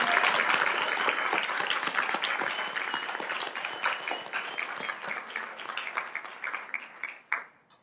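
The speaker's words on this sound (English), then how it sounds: "Let's have one more round of applause for the recipients." Loud, dense applause from an audience at the 2018 HRC and Marcille N. Wood awards ceremony in Fort Collins, honoring the recipients, holding strong at first, then thinning into scattered claps before fading out.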